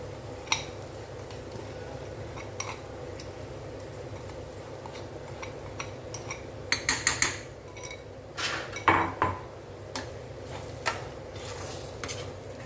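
Mushroom pickle masala is mixed in a pan, with quiet scrapes and occasional clinks of a spoon against metal over a low steady hum, a few louder clattering bursts standing out.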